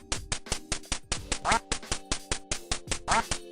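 Digital quacking from the Duck Hunt video game ending, where ducks rain down after level 99 rolls back to level 0. Loud, rapid, evenly spaced quacks repeat continuously with a few longer squawks mixed in.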